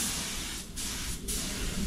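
Compressor-powered spray gun applying sealer outdoors on a building project gives a loud, steady airy hiss that briefly drops out twice before resuming, with no voices.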